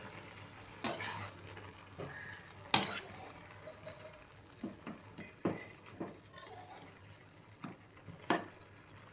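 Dill leaf bhaji being stirred in a pan, spatula scrapes and clinks against the metal at irregular intervals, about eight distinct strokes over a soft low sizzle, no talking.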